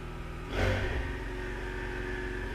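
A Ford Mustang EcoBoost engine gives one short, sharp rev that swells briefly and then falls back to a steady, close idle, with no talking.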